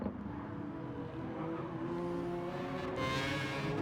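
An LMP prototype race car in a racing video game drives steadily with a continuous engine drone, a brighter rise in pitch near the end suggesting acceleration or a car passing close.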